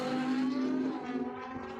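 A Kawasaki drag bike roars down a dragway strip at a quarter-mile points race, a loud, steady high-revving engine drone with a strong whine that eases slightly toward the end.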